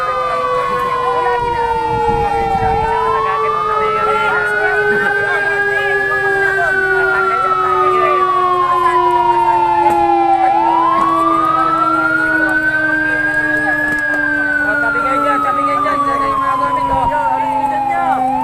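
A loud fire truck siren wails up and down in long repeating sweeps, close by, over a constant low engine rumble.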